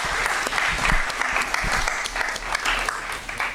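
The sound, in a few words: applause for Team Starbucks volunteers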